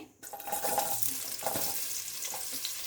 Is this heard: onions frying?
yes